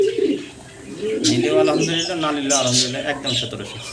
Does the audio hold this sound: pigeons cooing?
yes